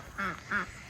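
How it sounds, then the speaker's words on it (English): Two short nasal duck quacks in quick succession, close and clear, at a farm duck pond. "Daffy and Dolly go straight to the duck pond to go swim this morning."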